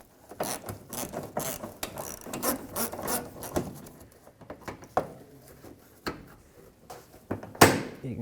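A hand ratchet clicks in quick bursts, backing out a 10mm bolt behind the rear bumper cover of a 2003-2008 Toyota Corolla, with close metallic pawl clicks and short pauses between strokes.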